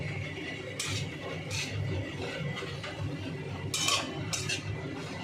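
Vegetables in a mustard and poppy seed paste with a little water being stirred in a pot, heard as faint scraping and a few soft clinks of a utensil against the pot over a low background hiss, with no voices.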